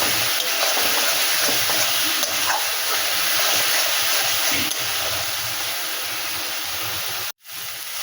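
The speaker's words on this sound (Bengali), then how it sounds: "এখন মশলা কষাই হচ্ছে" Spice masala frying for a Bengali lote fish curry, a steady loud hiss and sizzle filling the pan throughout, briefly cutting out near the end.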